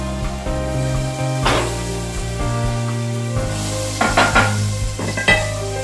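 Garlic and green onion whites sizzle steadily in oil and butter in a pan, close and continuous, with occasional sharp stirring scrapes and clinks of a utensil.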